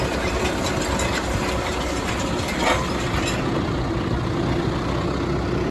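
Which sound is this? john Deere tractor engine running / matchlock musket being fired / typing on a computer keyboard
john Deere tractor engine running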